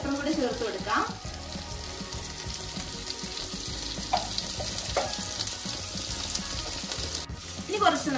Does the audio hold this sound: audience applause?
no